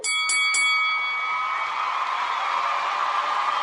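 A bright bell is struck three times in quick succession, then its clear ringing tone hangs and slowly fades.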